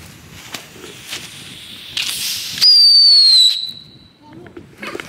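A firework fired on a street lets out a loud, bright whistle that slides slowly down in pitch for about a second. Faint crackles and rustling come before and after, and a muffled bang comes at the start.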